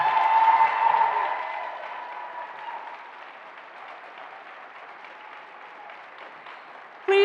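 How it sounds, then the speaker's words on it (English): Audience applause at a public service awards luncheon, a dense round of clapping that starts loud and gradually thins and softens over several seconds, then cuts off abruptly. "Please join us in congratulating this year's awardees with one final round of applause."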